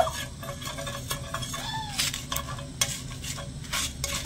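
Dried red chillies and five-spice seeds dry-roasting in a dry pan for a mango pickle, with soft scraping stirs and faint crackle, plus a few light metallic clinks of a spoon on the pan.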